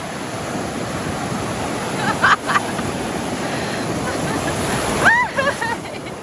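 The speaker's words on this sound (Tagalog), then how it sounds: "Grabe yung alon, no?" Ocean surf washing onto a sandy beach at Puerto Princesa with steady wind rushing across the microphone, and a couple of brief voices calling out.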